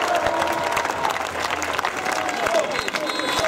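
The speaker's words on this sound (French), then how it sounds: "on peut applaudir les rassemblements dans toute la France" Crowd applause at an outdoor French protest rally, loud clapping mixed with cheering and crowd murmur, with some voices audible among the claps throughout.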